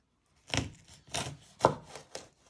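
A knife slicing beef into little pieces on a cutting board, heard as four or five distinct close cuts in an uneven rhythm, with no talking.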